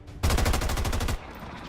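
A burst of rapid automatic gunfire in the XCOM 2 tactical video game: a loud, close string of evenly spaced shots lasting about a second, then a quiet tail.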